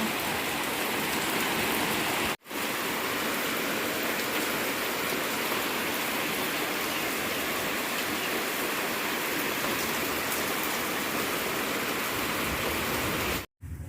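Heavy rain roars in a loud, constant wash of noise, briefly dropping out twice, with no voices heard.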